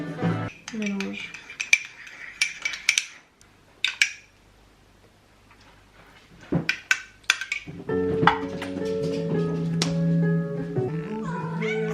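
A utensil scrapes and clinks against a dish while mixing a yogurt sauce with herbs and garlic powder, in two bursts of close rattling, followed by a cat meowing repeatedly and loudly nearby.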